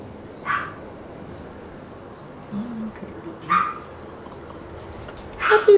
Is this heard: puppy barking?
yes